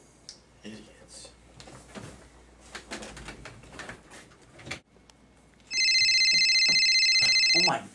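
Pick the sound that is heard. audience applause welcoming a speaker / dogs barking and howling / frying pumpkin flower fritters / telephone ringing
telephone ringing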